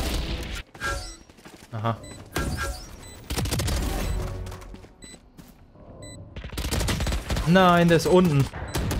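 Gunfire in the video game Valorant, with scattered shots and quick bursts over game sounds while players talk excitedly between the shots.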